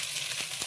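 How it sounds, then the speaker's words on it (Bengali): Spice paste frying in a pan with salt and turmeric for a spicy taro (maan kochu) dish, a continuous close hiss of sizzling oil with a couple of faint stirring knocks, brief and steady with no talk. "নুন দেব পরিমাণ, হলুদ দেব, দিয়ে অনেক মশলাটা ভালো করে কষিয়ে নেব।"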